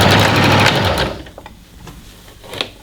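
A sewing machine stitches a poncho top's seam in a loud, close, fast whirring burst for about a second, then stops, leaving faint clicks and handling noises.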